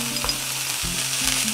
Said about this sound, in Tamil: இப்போது வெங்காயத்தை சேர்த்துக்கலாம். லேசாக வதக்கினா போதும்.